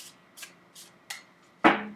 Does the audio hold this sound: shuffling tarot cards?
yes